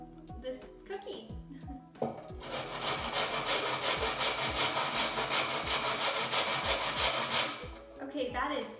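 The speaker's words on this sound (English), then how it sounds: "I'm just gonna grate this cookie." A burnt cookie scraped against a grater, making a rapid, rhythmic rasping that runs loud and close for several seconds, with a person talking briefly before and after the scraping.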